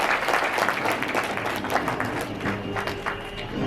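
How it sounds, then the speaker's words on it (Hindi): Audience applause at a Hindi kavi sammelan (poetry gathering), a steady crowd clapping wash that carries evenly throughout with no clear voices over it. "जोरदार तालियों के साथ इनका अभिनंदन और स्वागत"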